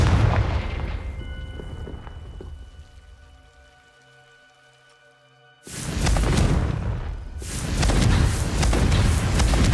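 A Confringo blasting spell explodes in Hogwarts Legacy: after a quieter lull, a sudden loud, broadband blast erupts close by, followed by a second heavy burst of rumbling debris.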